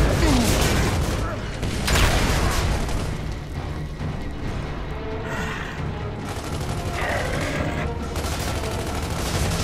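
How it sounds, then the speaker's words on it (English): Frag grenade blast in the Gears of War 3 game amid a firefight: loud booming bursts and rattling gunfire pile up at the start, then a denser roar of combat noise continues while voices shout underneath. "Throwing frag!"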